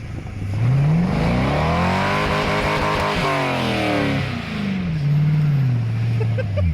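An LS-swapped Audi R8 drag car launches hard as the clutch is dropped: a loud, close V8 roar climbs in pitch, dips briefly, then surges again through about seven seconds.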